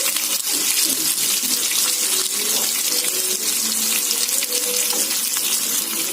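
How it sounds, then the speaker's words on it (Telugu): Fish pieces roasting in hot oil in a pan for a homemade fish fry, giving a continuous, close, even sizzle with no talking. "వేగుతున్నాయి కదా, బాగా ఇలా రోస్ట్ చేసుకోవాలి."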